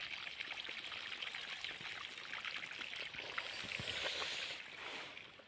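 Irrigation water runs into a wheat field in a faint, steady rushing trickle that swells slightly toward the end, with no voices.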